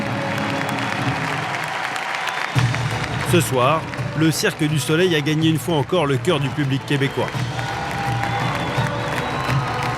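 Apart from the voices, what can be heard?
audience applause and ovation after Cirque du Soleil show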